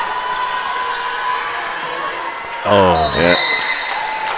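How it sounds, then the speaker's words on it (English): A short burst of cheering and hollering rises from the crowd at a girls' high school volleyball match between Lakota Tech and Pine Ridge, with a commentator talking over it as the cheer swells briefly and fades. "We got cheering, we got hollering, we got celebrations"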